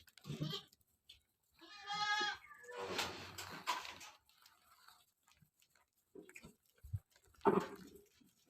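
Arabian goats bleat in a series of loud, wavering calls, with a quieter stretch in between and one more sharp bleat near the end, heard fairly close.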